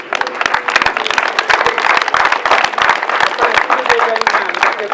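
Audience applause at an end-of-year riding ranch show, dense steady clapping from a crowd mixed with voices, loud and continuous throughout.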